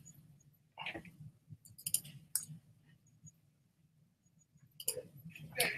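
A computer mouse gives several sharp, faint clicks, spaced irregularly, heard close over a low background hum.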